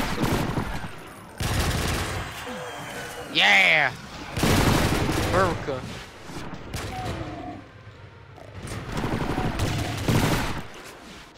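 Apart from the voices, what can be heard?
PPSh submachine gun firing in a video game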